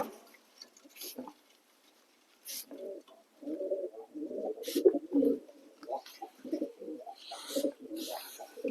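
Pigeons cooing in soft, repeated low bursts at close range, mixed with wing flutters and scuffling as the birds are handled during a check for mites and lice.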